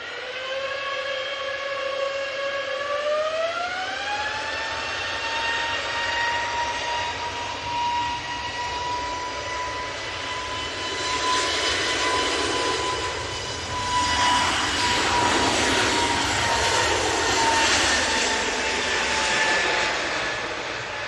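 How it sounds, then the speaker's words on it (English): Jet airliner engines spooling up for takeoff, an Emirates A380 or Virgin A350, a steady whine climbing in pitch and settling into a loud sustained roar that swells into broadband rumble, heard alone. "And we have a spool up."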